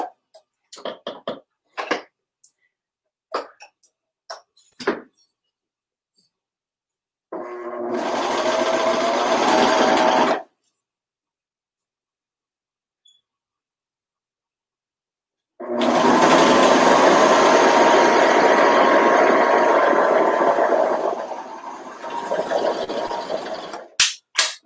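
A sewing machine stitching a T-shirt shoulder seam runs in two loud, steady bursts, one short and one longer, separated by silence and scattered light clicks and taps from handling the fabric.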